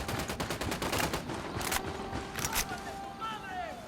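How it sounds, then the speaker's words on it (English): Gunfire from an enemy checkpoint in Ghost Recon Wildlands rattles in rapid bursts of sharp cracks, moderately close and steady, followed by a couple of louder isolated shots, with a voice speaking over the fighting. "Taking fire from the checkpoint."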